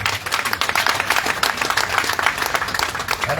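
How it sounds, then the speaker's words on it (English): An audience applauds at the official opening of a film production studio, a steady round of dense clapping from many hands filling the room with no talk over it. "give a big round of applause."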